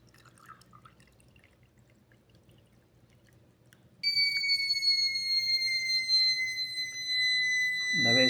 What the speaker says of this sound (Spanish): se escucha la alarma sonora en el receptor